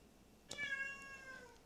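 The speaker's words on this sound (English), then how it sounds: "Sorry, my cat's meowing." A house cat lets out a single clear, drawn-out meow close by in a quiet room, with no talk over it.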